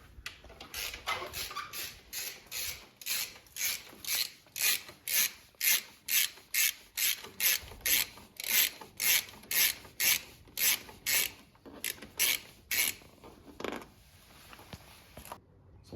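A ratchet wrench backs bolts out of a 2024 Honda CBR650R in a steady series of about twenty quick rasping clicks with short pauses between turns. Each burst is close and clear against a quiet background.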